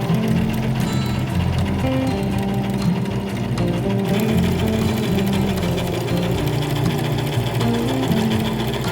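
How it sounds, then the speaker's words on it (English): A sewing machine runs a steady zigzag stitch to close a seam on a thrifted garment, whirring and clattering loudly and continuously up close with no pauses and no talk. "I think maybe I'll do a zigzag stitch to close this up."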